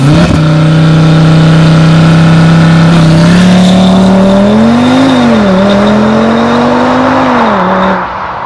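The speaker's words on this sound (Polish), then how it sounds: "Launch control aktywne. I możemy sobie wcisnąć pedał gazu." A 2024 Cupra Formentor VZ5 engine (390 hp) roars loudly and climbs in pitch as it accelerates hard from a launch-control start, with brief dips at gear changes before fading out.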